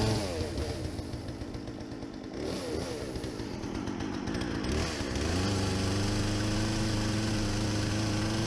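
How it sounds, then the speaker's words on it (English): A loud chainsaw engine runs continuously, its revving pitch shifting as it bites and eases, close by with no talking, while cutting out the middle of a Princecraft Springbok boat transom. "I think I'm going to maybe use a chainsaw on this, just to get the middle out"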